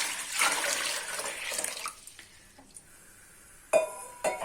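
Water is poured from a pan into a pot of rice flour, splashing in a burst that fades, followed by a few sharp metallic clinks of the vessel, fairly faint and close.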